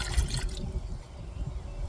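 Water poured into a rice maker, a short close splashing gush in the first half second, then a softer trickling and dripping that fades quickly.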